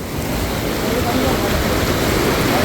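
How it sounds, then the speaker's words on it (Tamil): Floodwater rushes loudly through the submerged Sellakathirkamam temple grounds, a constant roaring surge that builds slightly as it goes, with voices speaking over it. "நீ பாருங்க தண்ணி எப்படி அடிக்கிறது பாருங்க"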